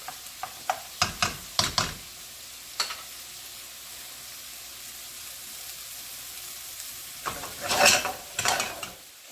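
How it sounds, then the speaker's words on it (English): Onions and mushrooms sizzle in a frying pan, with a quick run of close, clattering stirs and scrapes at the start, a lull of steady frying, then a louder burst of stirring near the end. "want the onion, I want the mushrooms to cook."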